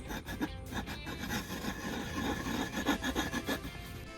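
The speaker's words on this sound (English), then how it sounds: "I decided to do some aggressive filing to finish this portion." A rasp file scrapes aggressively along a wooden bowie knife in quick, rhythmic strokes, close and moderately loud, with no talking.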